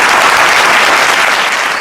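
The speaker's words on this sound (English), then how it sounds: "He got applause button over there." A dense burst of applause from a crowd, loud and continuous, with many hands clapping together throughout.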